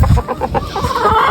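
Hens on a farm cluck in a series of close, repeated calls over a rough, noisy background, with no speech.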